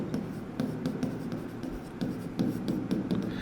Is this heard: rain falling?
no